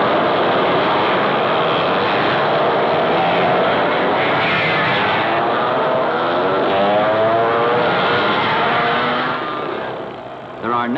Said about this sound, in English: burning up the course and shattering the Bahamian afternoon with those two-cycle engines